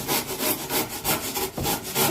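Stout rougher rasp rubbing and scraping down the sides of a foam deer mannequin form for a full-body piebald deer mount, a close, steady rhythm of repeated rough strokes with no pauses.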